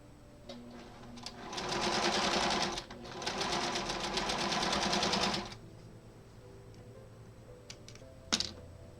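A sewing machine stitches pieces of a Maple Leaf quilt block together in two steady runs of about two seconds each, separated by a short pause. A few faint clicks and a short sharp sound follow after it stops.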